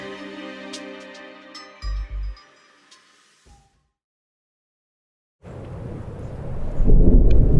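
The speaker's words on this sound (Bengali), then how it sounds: "ঝড়ের রাত। দীর্ঘ কয়েকদিনের উত্তাল দাবদাহের পর আজ বছরের প্রথম কালবৈশাখী শুরু হয়েছে।" A nor'wester thunderstorm at night: a thunder crack and rumble, then near silence, followed by a rising roar of wind and rain that grows louder toward the end, with no voices.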